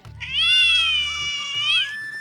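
A kitten gives one loud, drawn-out meow close by, rising and then falling before trailing off, over a faint low background hum.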